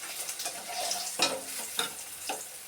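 Fish fries in hot oil in a wok, giving a soft continuous sizzle broken by a few scraping stirs of a spatula, close and fairly quiet.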